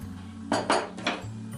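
Stirring roti dough ingredients, milk and melted butter, in a bowl gives a few quick clinks and scrapes against a steady low hum, with no talking.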